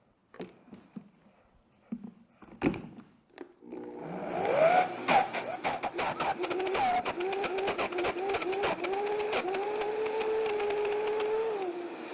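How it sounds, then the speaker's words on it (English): A blender starts up after a few clunks and handling noises and whirs steadily as it blends peanut butter with a little sunflower oil, its loud motor pitch wavering slightly as the load shifts. "I'm going to add maybe a teaspoon of this sunflower oil and try blending it again"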